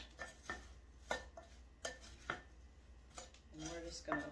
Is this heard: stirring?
yes